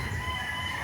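A Gilmore broodcock rooster on a breeding farm, heard as a brief, faint crow under a steady background hum.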